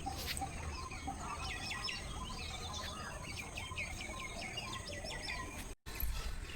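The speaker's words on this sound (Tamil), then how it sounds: "இந்த குருவிகளோட சத்தம் வந்து ரொம்பவே சூப்பராக இருக்கும் காதுக்கு" Morning sparrows chirping in quick, busy twitters that run throughout, fairly faint and set against a steady background hiss, with no voices.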